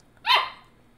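A puppy gives a single short, sharp bark, close and clear, with quiet before and after.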